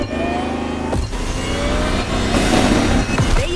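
Lamborghini Terzo Millennio electric supercar in The Crew Motorfest racing game, a loud, steady high-pitched drive whine with rising pitch sweeps and a brief dip, running alone without talk.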